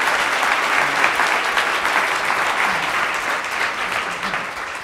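An audience at an art talk applauds to welcome the artist Mickalene Thomas, steady clapping from many people filling the room for several seconds, loud at first and easing slightly toward the end.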